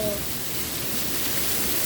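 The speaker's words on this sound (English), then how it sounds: "look at this rain" Heavy rain in a storm with strong winds pours as a loud, unbroken broadband rush, close and constant, with no speech over it.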